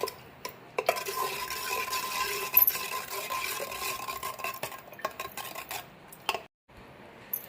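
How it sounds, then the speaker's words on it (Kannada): Neem (bevu) mixture for Ugadi being stirred in a pot, a steady scraping and clinking of a spoon against the vessel close by, with small splashy wet sounds and no talking. "ಮಿಕ್ಸ್ ಮಾಡಬೇಕು."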